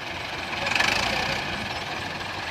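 A Belarus 510 tractor engine runs in a rain-soaked field, giving a steady, moderately loud idling rumble with a slight rhythmic knock that swells briefly before settling back to an even drone.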